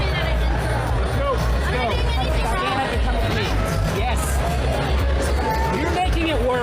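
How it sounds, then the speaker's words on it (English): A concert crowd cheers and chatters as a drunk woman is removed by police, a dense murmur of voices with scattered shouts throughout. "Listen as they cheer when she's removed."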